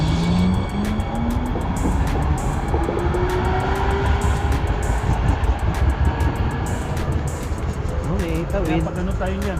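A Hudson-Bergen Light Rail train heading northbound rumbles past with a steady, loud roar and rising motor whine, while people talk nearby over the noise.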